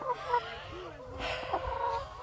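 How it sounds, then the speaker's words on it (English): Chickens raised in the open on a farm, clucking and calling in short, close bursts with faint outdoor background noise. "On Rosie and Ward's land, chickens are raised out in the open."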